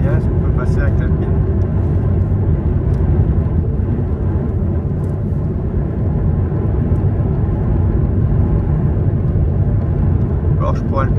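Alpine A110 sports car driving on a snowy Lapland track, a steady loud engine rumble and road noise running throughout from close by, with people talking over it.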